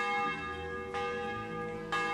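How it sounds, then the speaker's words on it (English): A church bell tolls inside the medieval village of Kingdom Come: Deliverance, two loud, ringing strikes about a second apart, each leaving a rich sustained hum that blends into the next. "Who's ringing the bell, though?"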